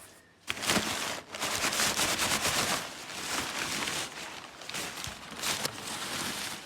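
Rapid crackling bursts and sharp pops from a Subaru Impreza Sport's muffler-delete exhaust, popping and banging in quick clusters, loud and close.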